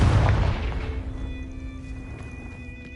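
An explosive Confringo spell cast in Hogwarts Legacy bursts with a loud, deep boom at the outset, then rolls off into a fading rumble with faint high ringing tones lingering over the tail, no voices present.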